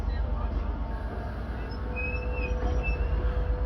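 A train rolls round the curve at Ruabon station on the Shrewsbury line, a steady low rumble of wheels on rail with faint squeals and a few birds, while people chat nearby.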